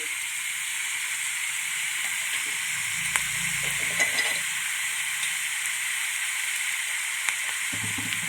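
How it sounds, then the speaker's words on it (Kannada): Vegetables and onion fry in a pan with turmeric powder, giving a steady, close, bright sizzle throughout, with a few soft stirring knocks and scrapes midway. "ಇವೆಲ್ಲ ಸ್ವಲ್ಪ ಚೆನ್ನಾಗಿ ಫ್ರೈ ಮಾಡ್ಕೋಬೇಕು ಇದಕ್ಕೆ ಸ್ವಲ್ಪ ಅರ್ಶಿನ ಪುಡಿ ಹಾಕೋತಾ ಇದ್ದೀನಿ"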